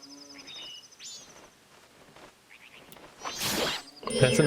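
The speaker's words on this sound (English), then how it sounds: "That's an ugly bird." A bird in the video game Majora's Mask, short high chirps and trilling calls, fairly faint, followed by louder rustling noise bursts.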